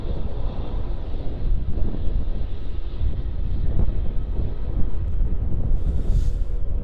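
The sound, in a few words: Jetstar airliner taking off at Melbourne Airport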